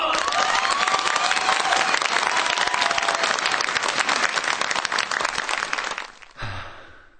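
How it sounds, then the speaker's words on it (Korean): An audience at a high school singing contest bursts into loud, dense applause with some cheering as a contestant is introduced. The clapping stays thick and constant for about six seconds, then cuts off sharply. "많은 박수 부탁드립니다"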